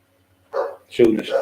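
A guard dog barks at the door in two bursts, a short bark and then a louder one, close by and loud.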